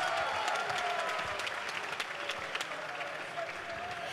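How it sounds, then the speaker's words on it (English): An audience applauds after a three-round mixed martial arts bout, with steady dense clapping and crowd noise throughout and cheers rising over it. "can I get a big round of applause for our second bout of the evening to go all 3 rounds?"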